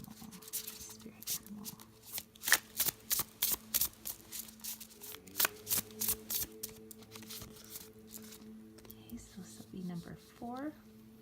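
A Wild Unknown Animal Spirit card deck being shuffled, with a run of quick, regular riffling bursts up close and some soft voice sounds near the end.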